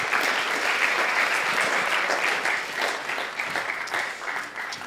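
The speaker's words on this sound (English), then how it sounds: "Teresa deserves a big round of applause" Warm applause from an audience at a FameLab science-communication event in Prague, given for a speaker named Teresa: a continuous, even patter of many hands that fades a little in the second half.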